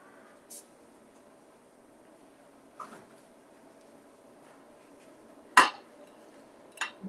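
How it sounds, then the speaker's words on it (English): A knife and fork are set down on dishes at a dinner table, giving a few sharp metallic clinks spaced apart against a quiet kitchen background, the loudest near the end. "you put your knife and your fork."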